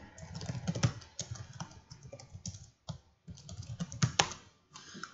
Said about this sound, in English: it's as simple as just typing out the subjects